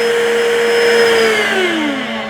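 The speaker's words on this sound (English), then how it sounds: "I can turn the vacuum on so that it's sucking up debris and mopping" A Bissell SpinWave mop vacuum running, a loud, close, steady motor whine with a high tone that drifts slightly downward, heard alone.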